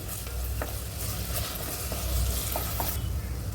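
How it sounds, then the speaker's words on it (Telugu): Onions and ginger garlic paste frying in a pan for mutton haleem, giving a steady, close sizzle with a few faint stirring scrapes throughout and no talk. "ఇది బాగా ఫ్రై అయ్యాలి."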